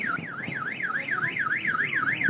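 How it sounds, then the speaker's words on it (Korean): A parked car's alarm, set off by a meteor's shockwave in Chelyabinsk, Russia: a loud electronic siren that sweeps up and down in a fast, even, repeating warble, steady throughout and alone. "이 충격으로 서 있던 차에서 경보까지 울립니다."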